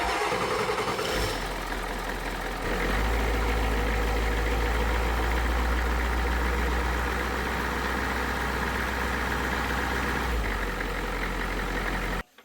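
A truck engine cranks and catches, then settles into a loud, steady idle up close for several seconds before cutting off abruptly at the end, with no one speaking.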